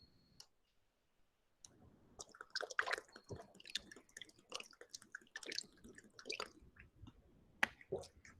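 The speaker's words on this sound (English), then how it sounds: "I'll drink water, then I'll continue with the third process of selection." A lecturer pauses to drink water, giving quiet, close clicks, sips and swallows, with faint handling noises after a moment of near silence.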